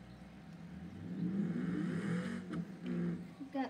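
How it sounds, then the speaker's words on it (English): A trophy truck engine revs in the BeamNG driving game on an off-road island map, a mid-pitched motor that swells, surges and dips over a few seconds with brief talk alongside. "Now that's a trophy truck sound"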